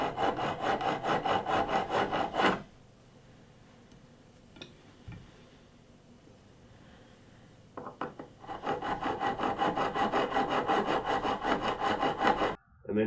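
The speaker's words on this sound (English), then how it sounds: "So what I do is I buy old screwdrivers, grind the end down, grind the end to the size of the screw" The worn tip of an old screwdriver is ground down to fit a screw. It makes a steady, harsh, loud grinding that runs for a couple of seconds, falls quiet, then starts again for a longer stretch.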